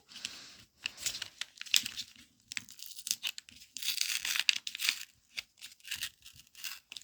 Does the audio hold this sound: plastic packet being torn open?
yes